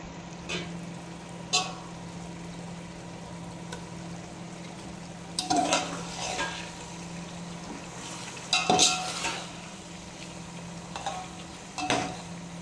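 Sago and vermicelli frying and being stirred in a pan, soft continuous sizzle with intermittent scraping and clinking stirs of the utensil against the pan.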